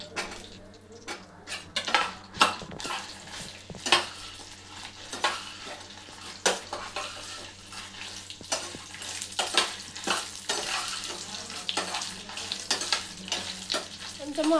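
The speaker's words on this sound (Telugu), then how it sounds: "ఎండుమిర్చి ఫ్రై చేసుకోవాలి, మాడకుండా ఫ్రై చేసుకోవాలి" Dried red chillies and ginger fry in a pan for chutney, a continuous oily sizzle broken by frequent metal spoon scrapes and clanks against the pan, close and fairly loud.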